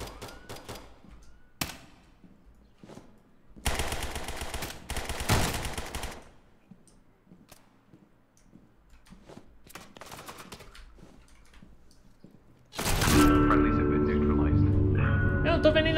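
Rapid automatic gunfire bursts in Rainbow Six Siege during a hostage mission, with scattered single shots between quieter gaps and a loud, dense burst of firing near the end.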